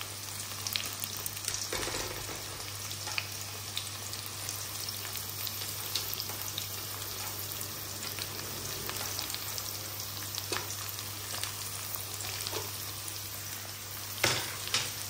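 Chopped onions frying in a pan in a home kitchen, a continuous close sizzle and crackle with occasional stirring scrapes and small spikes, no talking.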